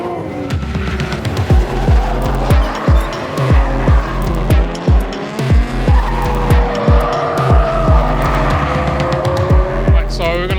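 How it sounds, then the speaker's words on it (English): Nissan Skyline R34 drift cars at Fuji Speedway, loud engines revving in repeated surges with squealing, skidding tires sliding through corners, one car after another close by, rhythmic bursts continuing throughout. "Look at all the drift cars, going to be all 34s."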